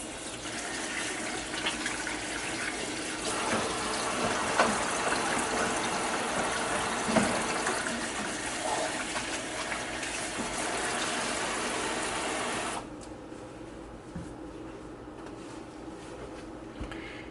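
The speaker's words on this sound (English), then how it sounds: "And wash my hands." Water runs loudly and steadily from a tap while hands are washed beneath it, splashing into a sink for about thirteen seconds before the flow stops, leaving a quieter background with a faint clink, no voices.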